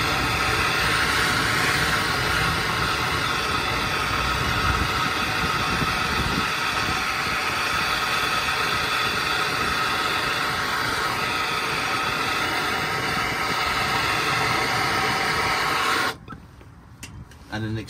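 A gas torch heats a car suspension knuckle, making a continuous loud roaring hiss that holds steady and then cuts off abruptly near the end.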